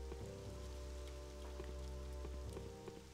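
Rain falls in the video game Wolfenhain, a steady patter of drops on surfaces beneath a low droning background tone, with no voices.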